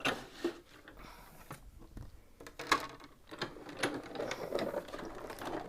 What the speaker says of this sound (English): let's go ahead and just die cut this so you can see the difference